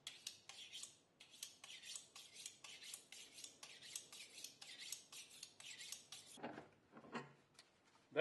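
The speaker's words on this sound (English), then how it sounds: "I'm cutting into that Gorilla Glue" A fillet knife cutting into hardened Gorilla Glue on a canvasback duck decoy makes a steady run of close, faint scraping and rasping strokes, each a short gritty rub repeated in rhythm.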